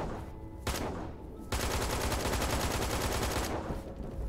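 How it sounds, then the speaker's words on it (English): Video game gunfire aimed at the player near a spawn point, rapid automatic bursts, one short burst then a sustained loud stream of shots for two seconds, close and without talk. "Are they shooting me because I'm not out of the spawn?"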